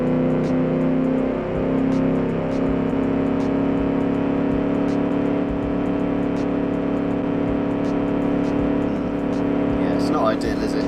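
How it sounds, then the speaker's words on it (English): A simulated race car engine in an Automation-built 1946 Gasmea car at Road Atlanta bangs repeatedly off the rev limiter in a steady stuttering drone, with a commentator talking over it throughout. "And now for a rev limiter fest down the back straight."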